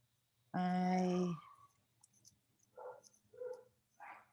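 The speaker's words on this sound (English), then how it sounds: "So they're out there barking at him." Dogs outdoors barking at a gardener: one loud, drawn-out bark near the start, then three shorter, fainter barks spaced a moment apart, with quiet between them.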